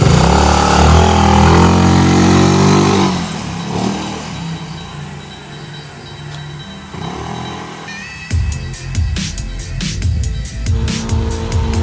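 A Rusi Adventure X CVT scooter engine on test, revving up in rising tonal sweeps, dropping back to a rough idle, then sharp clattering bursts near the end, close and loud.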